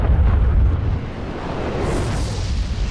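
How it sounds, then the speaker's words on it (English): A grenade blows up in a Bungie video game: a loud, close boom that rolls out into a long rumbling decay, heard alone without voices. "He threw a grenade."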